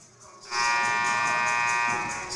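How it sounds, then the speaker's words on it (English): A loud, steady electronic buzzer sounds at a women's college basketball game to end a timeout, starting abruptly and holding for about two seconds with no talk over it. "All right, buzzer sounds."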